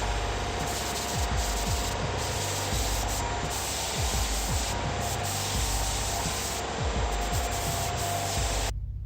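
Sanding a bevel onto a Stormbreaker cosplay axe blade makes a loud, steady abrasive rasp with rhythmic back-and-forth strokes close to the microphone, then stops abruptly at the end.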